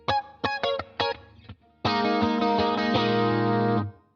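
Electric guitar with chorus and distortion effects playing a song's rhythm, a few short choppy chord stabs followed by one long ringing chord that sustains then cuts off; no talking.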